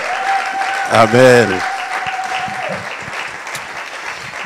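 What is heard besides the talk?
church congregation applauding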